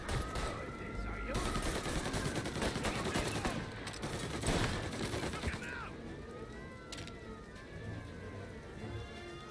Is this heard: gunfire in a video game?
yes